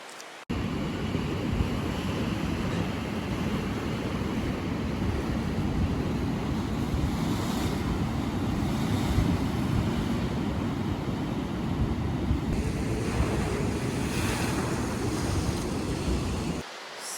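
Steady Atlantic Ocean surf washing in on a shore with the tide, a continuous broad roar of waves heard close and loud throughout with no talking.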